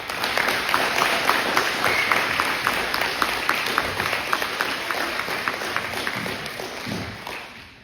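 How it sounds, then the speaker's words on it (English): A large audience on a Friday night school event claps in a sustained, even roar of applause lasting several seconds, with faint cheering woven in and a slight tapering toward the end. "Let's give him a round of applause."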